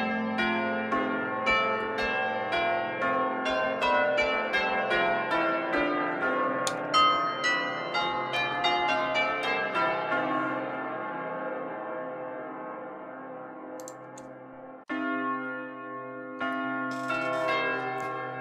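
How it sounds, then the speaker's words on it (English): Jazz bells on Pianoteq 8 Stage ring out in a busy run of bright, shimmering chime notes that thin and fade, then after a brief sharp restart continue with a sparser phrase, with no talking. "Jazz bells are great."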